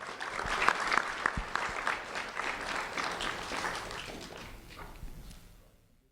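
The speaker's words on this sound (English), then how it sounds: "Round of applause for Douglas Nunez, please" A crowd at a student recognition event applauds an award recipient, the close, steady clapping sustained for several seconds before fading out at the end.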